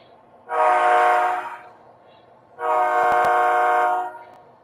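Model train sounding two long horn blasts, each about a second and a half, loud and close, with faint running and a couple of clicks during the second blast.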